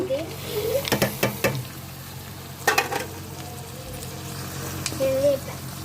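Goat tripe mixed with salt, turmeric and chilli powder is stirred in a hot pan, sizzling steadily, with a few sharp spoon clanks against the metal, close up, while voices talk over it.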